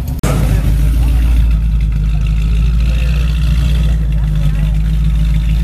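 A heavily modified Ford Mustang GT500 at a Cars & Coffee meet in Dallas holds a loud, steady low engine roar, revving close by across the whole stretch with crowd chatter faintly behind it.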